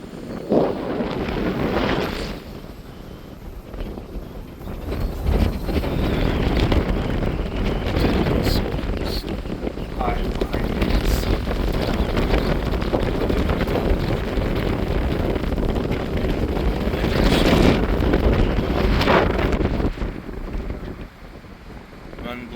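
Strong wind gusting across the open Antietam battlefield, roaring and buffeting the microphone almost continuously, with faint voices partly buried beneath it.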